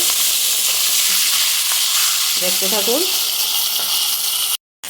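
Loud, continuous mustard-oil sizzle from a catla fish head frying in a pan close up, with a short spoken phrase in the middle.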